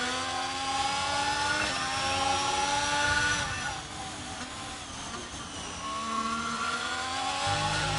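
Haas F1 race car engine in a racing video game, a high-pitched continuous scream that dips and rises as the throttle is lifted and reapplied.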